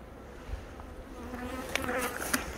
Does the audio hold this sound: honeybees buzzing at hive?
yes